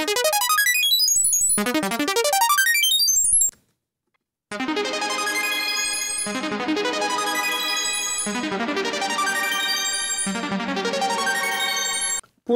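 Dry synth arpeggiator phrase with no effects chain, bright rapid note patterns cycling up and down, a short break partway through, then denser repeating runs, loud and alone.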